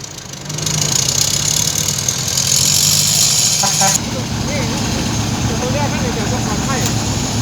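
A tractor engine runs loudly and steadily nearby with a chugging rumble, while a person talks over it.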